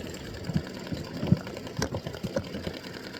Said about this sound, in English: so I'm going to stitch this